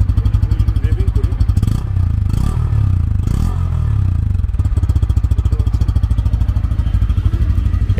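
A Bajaj Pulsar N160 FI ABS motorcycle engine while riding: close, loud exhaust with a steady rapid low thrum, roughening into a brief clattery surge midway before settling back to an even beat.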